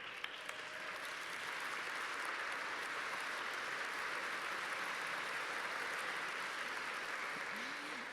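Audience at an awards event applauding honorees with sustained, even clapping that holds for about eight seconds at moderate distance, heard without talk over it.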